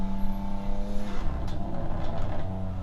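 A BMW G82 engine revs with a loud, raspy, snappy, crackling exhaust note, rising and falling close by, with no talking.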